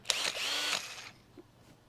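Evolution cordless drill, part of a beginners' tool bundle, spinning up in a short burst of under a second, close and fairly loud, then winding down into faint handling noise.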